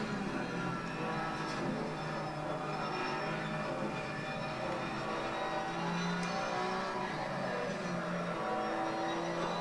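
A race car engine drones steadily in Assetto Corsa Competizione as the driver drops down to third gear, a continuous mechanical hum heard alone at a moderate, even level.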